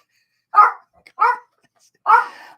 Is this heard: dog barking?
yes